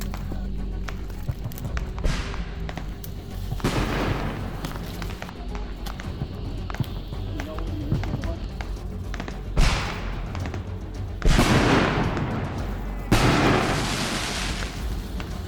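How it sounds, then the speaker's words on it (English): Mortar rounds land with heavy thuds and bursts in a military video game, several impacts spread across the scene amid running footsteps and battlefield clatter, with voices talking. "Yeah, they're bringing in mortars."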